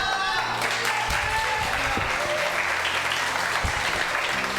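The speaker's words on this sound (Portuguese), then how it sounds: "aplaude o nome do Senhor Jesus." A church congregation applauds with dense, steady clapping that runs the whole time, while a preacher's voice carries over it at the start.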